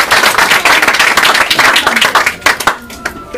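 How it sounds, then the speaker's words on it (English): Audience at a magic show claps loudly for a volunteer called on stage, a dense burst of close hand claps that thins out near the end. "Give her a nice round of applause."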